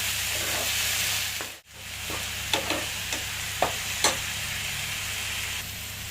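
Chopped garland chrysanthemum greens fry in a pan with browned onions, turmeric and salt, a steady broadband sizzle broken by a brief gap and several sharp clinks of stirring, with no talking.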